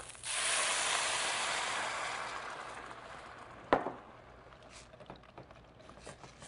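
Stock poured into a hot braising pan of onions sets off a loud, broad sizzling hiss that gradually fades, then a sharp clank of a utensil or pan and quieter sputtering.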